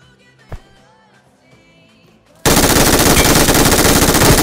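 Automatic gunfire erupts in a PUBG Mobile fight: after a quiet stretch with a faint blip, a loud, dense, continuous burst of rapid shots starts abruptly and carries on to the end.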